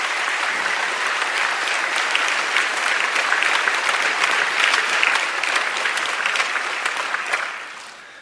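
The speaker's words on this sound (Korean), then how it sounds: "우리가 뜨거운 박수로 환영하겠습니다" A church congregation at a Sunday service gives new members warm applause, a dense, sustained clapping that fills the room for several seconds before fading out.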